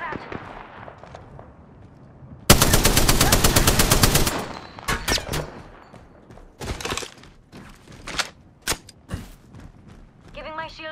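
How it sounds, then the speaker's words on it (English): Rapid automatic gunfire in the video game Apex Legends, a loud sustained burst followed by scattered sharp single shots and impacts, with game sounds throughout. "Getting shot at."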